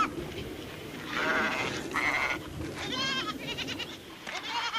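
A motherless lamb bleats several times close by in Yorkshire Dales hill country, thin wavering cries over a soft outdoor background.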